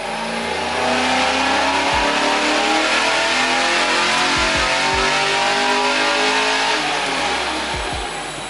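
Race car engines roar and rev loudly and continuously, a dense mechanical drone with rising and falling pitch that swells and stays near throughout.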